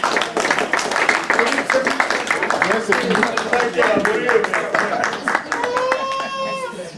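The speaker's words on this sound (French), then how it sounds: "Applaudis." Assembly audience at a general meeting applauding, a run of brisk, closely spaced claps over a couple of seconds. Voices talk over the clapping and carry on after it fades, with a brief tonal sound near the end.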